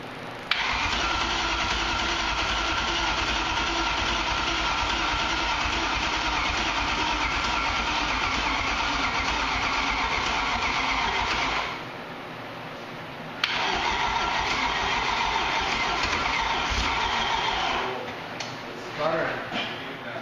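A BMW E30 with a swapped-in M60 V8 fires up and runs loud and close, then briefly drops off and catches again, ending in uneven sputters as it is cut; people talk over the engine.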